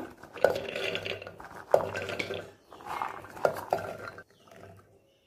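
Soaked chickpeas are drained and rinsed in a metal bowl, giving several sharp clinks and splashy sloshing bursts at close range, separated by short pauses before fading to quiet.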